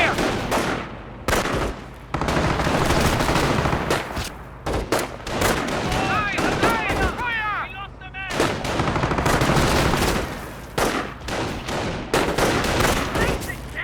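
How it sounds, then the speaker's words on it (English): Small arms fire crackles in Company of Heroes, a World War II strategy game: dense bursts of rifle and machine-gun shots in rapid volleys, with a brief lull and a whistling sound midway before the shooting resumes loudly. "Taking small arms fire here!"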